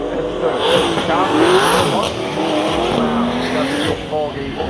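Drift car over-rotating at a pro drift event in a stadium, tires skidding and squealing over a loud, steady engine roar, with an announcer talking throughout.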